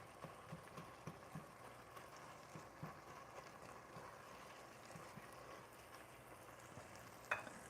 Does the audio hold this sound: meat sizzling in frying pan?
yes